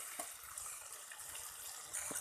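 Water poured from a vessel into a pan of soybean and potato curry cooking on the stove, a short steady splashing trickle that stays fairly quiet and even, with a brief louder gush near the end.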